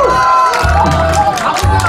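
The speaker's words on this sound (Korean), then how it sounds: "박수 부탁드리겠습니다" A festive outdoor audience at an elders' celebration in Anmyeondo cheers loudly as a singer is welcomed, a dense, steady roar of crowd voices and whoops with faint clapping mixed in.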